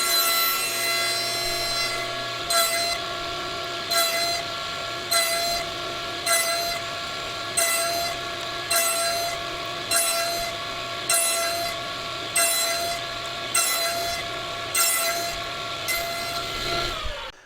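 A single saw blade cuts box joints in wooden boards held in a jig, with about a dozen evenly spaced passes. The loud, steady blade whine rises with each rhythmic cut.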